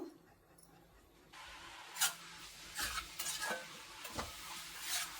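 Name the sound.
onions frying in oil in a pan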